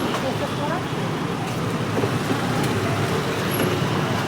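Steady roar of traffic on a busy, crowded road as a vehicle pulls up, with dense engine and road noise close by throughout.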